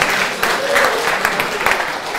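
An audience at an invention bootcamp claps together in a dense, steady burst of applause, fairly close and loud, with faint voices mixed in.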